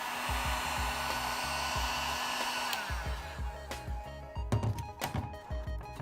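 A heat gun blows a steady roar onto a Ferrari 488 GTB permaseal headlight to soften it for opening. The roar cuts off partway through, then come scattered close-up clunks and knocks as the part is handled.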